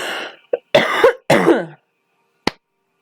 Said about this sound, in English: I'm sorry for coughing a lot through this video